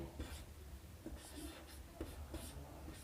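Pen writing an answer during a class 10 trigonometry maths lesson: faint, quiet scratching strokes on paper in short irregular bursts.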